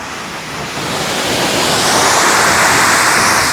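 At Thenmala dam, water falls forcefully in a loud, continuous roar that swells slightly and then holds steady at close range, with no voices.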